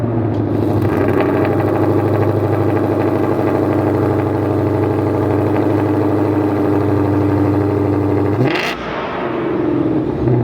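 A loud Ford Mustang Dark Horse SC engine rumbles at a steady idle with a deep exhaust drone through quad vertical tips, shifting abruptly near the end.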